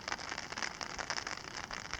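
Rain falling on a campsite in the Boundary Waters wilderness, a steady close patter of drops on a surface with no talking.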